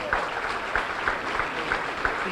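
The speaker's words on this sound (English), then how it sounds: "How about a big round of applause?" An audience at the Team USA bowling trials stepladder finals gives a steady round of applause, many hands clapping at a moderate distance in an even, sustained patter with a few louder claps standing out.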